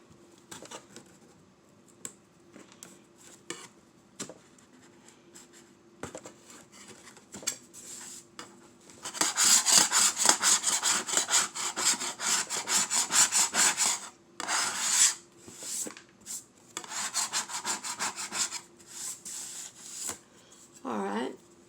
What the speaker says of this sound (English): You want to use the scraper. Just scrape it off.